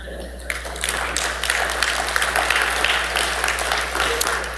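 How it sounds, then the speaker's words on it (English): A church congregation breaks into applause, a fairly loud and steady clatter of many hands lasting several seconds, with voices mixed in beneath it. "Now that should have got a clap."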